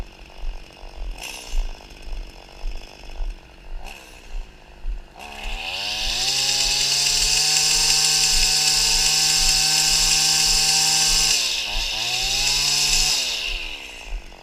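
A Stihl FS80 string trimmer's two-stroke engine idles with a low sputtering pulse, then revs up to a loud, steady high-pitched whine for several seconds, dips briefly and revs again, slightly slow to accelerate.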